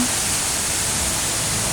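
Rushing water at an outdoor river spot flowing hard, a steady, loud, broadband roar with no pauses and no voices.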